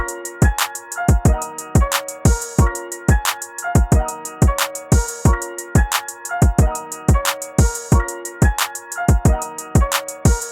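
An afroswing beat with punchy kicks, snappy percussion and open hi-hats in a bouncy, steady groove over a melodic loop, loud and upfront with no vocals.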